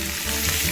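Chopped tomatoes with ginger paste frying in a pan for a Bengali potato curry, a brief burst of steady, close sizzling with soft stirring.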